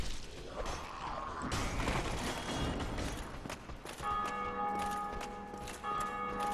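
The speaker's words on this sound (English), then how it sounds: "You get to hear the bells of awakening actually sound when you're online" Bells of Awakening in Dark Souls ringing out, a rush of mechanical noise giving way to sustained, resonant bell tones that hang and decay, moderately distant and alone.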